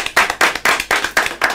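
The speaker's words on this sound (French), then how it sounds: "Et ça mérite des applaudissements." Applause breaks out for a dance group, heard as sharp, rhythmic claps about four per second, loud and close, with no voices over them.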